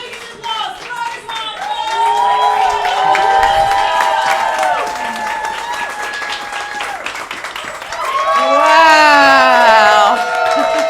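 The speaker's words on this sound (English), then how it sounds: "I want your biggest applause" Comedy club crowd at a solo stand-up show in Lisbon bursts into loud applause, cheers and whoops, with scattered shouting voices throughout and a swell of cheering near the end.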